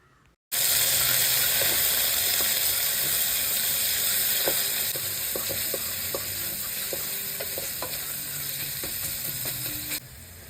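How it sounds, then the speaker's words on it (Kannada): Onions fry in hot oil, giving a steady broad sizzle throughout with scattered faint clicks and pops, close and fairly loud, with no voices. "ಈರುಳ್ಳಿ ಹಾಕಿ ಅದನ್ನು ಚೆನ್ನಾಗಿ ಫ್ರೈ ಮಾಡಬೇಕು."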